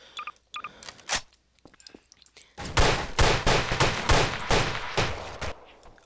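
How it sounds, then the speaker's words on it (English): MK9 assault rifle fire in the video game Garry's Mod: after a few scattered clicks and isolated shots, a loud sustained run of rapid automatic bursts with sharp cracks, close and continuous for several seconds, no talking. "Okay, MK9 assault rifles."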